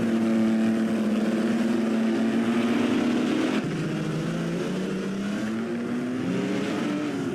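Talbot-Lago racing cars from the 1950s roar through the Pau Grand Prix street circuit, a loud sustained engine drone rising in pitch and then shifting down near a hairpin.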